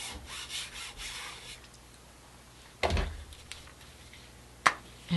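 Paper is burnished down by hand onto a tool holder before silk screening, heard as soft, close scratchy rubbing strokes at the start, then quieter scuffs and a couple of sharper knocks.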